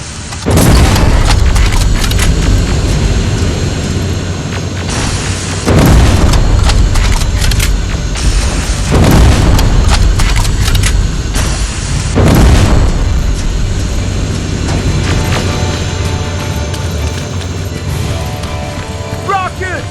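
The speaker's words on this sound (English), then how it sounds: "Rockets!" Rocket explosions in Terminator: Resistance land as several loud, booming blasts a few seconds apart, each followed by rumbling debris and clatter. Voices shout between the blasts.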